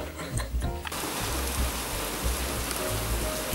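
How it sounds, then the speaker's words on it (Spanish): Heavy rain falling outside, a steady dense hiss that swells in after a brief burst of indoor sounds and continues without voices. "Porque está lloviendo y encima un montón."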